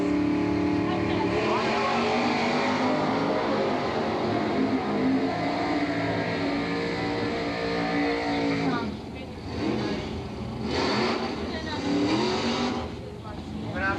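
Super Stock drag race cars roar and accelerate down the strip at the 1983 Englishtown Nationals, a loud continuous engine drone with a commentator talking over it throughout.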